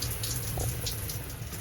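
Hot shower water runs steadily on a sleeper train through Finnish Lapland, a continuous close hiss of spray with no talking.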